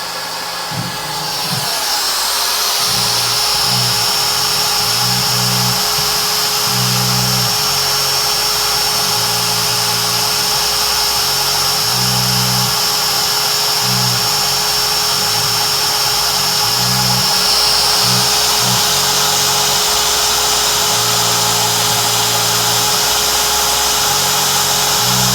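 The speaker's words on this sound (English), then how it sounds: "Our router is going to make a few passes there" An Inventables X-Carve CNC router spindle carving a workpiece gives a steady high motor whine, with low rhythmic rumbling pulses as the bit makes repeated passes, loud and continuous throughout.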